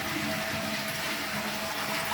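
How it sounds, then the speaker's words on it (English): A toilet cistern emptying after its push-button ball flush is pressed, a steady loud rush of water running without a break and close by. "we'll just test it by pushing the ball flush"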